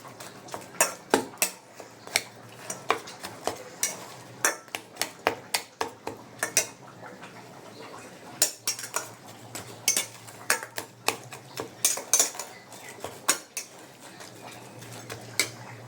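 A metal spatula scrapes and taps eggplant around an oil-free pan, giving a steady run of sharp, close metallic clicks and knocks at an uneven, brisk rhythm throughout, alone without talk.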